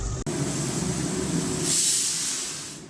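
A rice-filled pressure cooker hisses steadily in a home kitchen, a constant steam rush that swells louder near the end and then tapers off.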